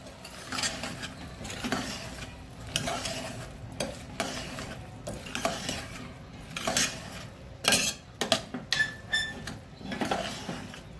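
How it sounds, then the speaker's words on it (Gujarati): A spoon stirs vegetable khichdi ingredients in a cooking pot, with repeated scraping and metallic clinks against the pot. Soft sizzling runs underneath, and the strokes grow louder and more clattery toward the end. "હવે બધું મિલાવી લઈશું."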